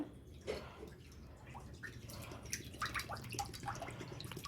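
Cow's colostrum milk, about a litre, pours into a heavy, sturdy kadai with soft continuous liquid splashing and dripping, fairly quiet and close, with no talk.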